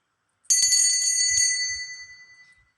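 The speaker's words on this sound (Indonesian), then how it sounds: "kita akan melanjutkan dengan tanda lonceng berbunyi" A single bright bicycle-style bell rings once sharply, its metallic tone ringing on and fading out over about two seconds.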